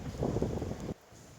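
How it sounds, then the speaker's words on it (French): Wind picks up outdoors near a medieval castle, buffeting the microphone with a low rushing roar for about a second before dropping off abruptly. "Ah, il y a le vent qui se lève."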